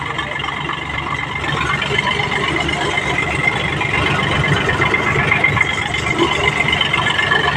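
A tractor engine runs steadily at close range, a loud, continuous rumbling drone that holds an even level throughout, heard out in the fields during rain.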